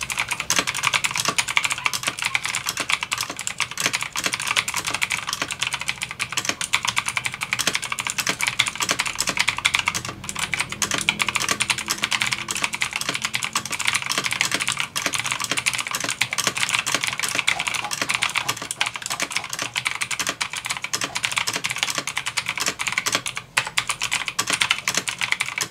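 Fast, continuous clacking of a FUN K30 full-size mechanical keyboard being typed on, dense keystrokes running steadily for the whole stretch with no pauses and no voices.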